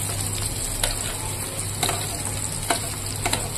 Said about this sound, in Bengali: এদিকে ফোড়ন দিব। তার জন্য আমি দিয়ে দিয়েছি এখানে তেল, শুকনো লঙ্কা, তেজপাতা, গোটা জিরে।